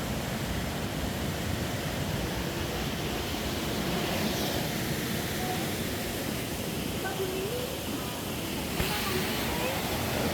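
A waterfall beside flowering wet-wall plants at the Sejong National Arboretum gives a constant, full rushing roar that stays steady throughout, with faint voices now and then underneath.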